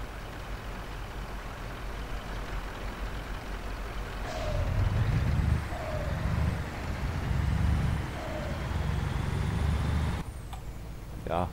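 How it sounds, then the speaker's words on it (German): A truck engine in Euro Truck Simulator 2 rumbles and idles, with a few low hissing bursts like air brakes and a sharp release hiss near the end; game-like sound. "So müsste ein LKW klingen."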